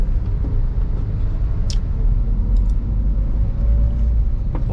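Toyota Avanza engine pulling as it accelerates in second gear, a loud steady low rumble from inside the car with road noise, no talking.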